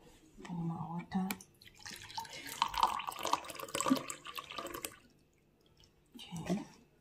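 Water poured into a cup over a tea bag, a soft splashing and trickling that runs a few seconds, fades out, then briefly returns, with a voice heard quietly at moments.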